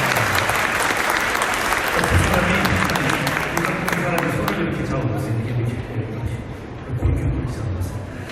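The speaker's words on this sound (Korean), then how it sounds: "여러분 박수로 함 해주시기 바랍니다." A wedding ceremony crowd claps steadily for several seconds, dense applause that fades near the end, with a voice speaking over it, in a hotel.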